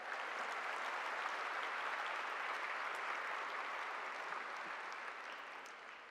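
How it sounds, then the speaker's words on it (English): Steady applause from a high school graduation audience, dense and continuous at moderate distance, easing slightly toward the end. "I'll go ahead and let you clap, go ahead"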